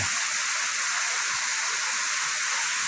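Tat Phueng waterfall in Dan Sai, Thailand, pours in a steady, loud broadband rush of falling water, continuous and even throughout with no voices.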